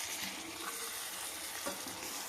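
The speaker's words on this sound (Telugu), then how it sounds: "ఇందులో నేను చూపిస్తున్న విధంగా మసాలా అంతా పట్టేలాగా కలుపుకోవాలండి" Goat leg (paya) pieces being stirred into masala in a pot for curry, a faint, soft sizzle with low stirring scrapes throughout.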